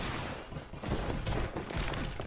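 AK rifle fire in the shooter game Farlight 84, made of steady, dense automatic bursts that are loud and close and run almost the whole time, with slight gaps in the rhythm.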